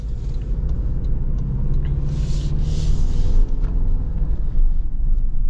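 A 2025 Toyota 4Runner TRD Off-Road Hybrid driving, a steady low cabin rumble of road and engine noise with a brief hiss-like rush in the middle, fairly loud and continuous.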